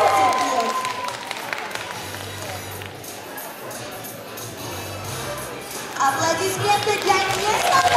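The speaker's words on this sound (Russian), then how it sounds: "Ваши аплодисменты" Audience applause at a children's beauty pageant, Mini Miss Chernihiv 2015, as a young contestant is introduced; steady crowd clapping fills the whole stretch, swelling louder near the end, with voices mixed in.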